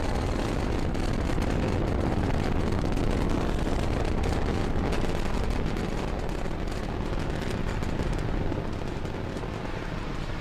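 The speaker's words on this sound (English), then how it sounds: "Falcon 9 has successfully cleared the pad and is now on its ascent with the TESS spacecraft in its fairing" A SpaceX Falcon 9 rocket carrying the TESS spacecraft climbs after liftoff, producing a massive, continuous crackling roar with deep rumble that stays loud and steady throughout, with no voices heard.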